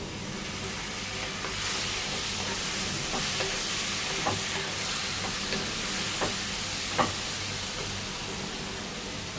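Masala frying in a pan with chopped tomatoes being added and stirred in, a continuous loud sizzle broken by a few faint scraping clicks of the spoon, no talking.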